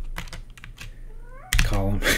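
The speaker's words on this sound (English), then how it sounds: "My cat is going crazy out there." A cat meows loudly in a drawn-out, wavering cry behind keyboard typing, coming in near the end after soft clicking and a brief earlier faint meow.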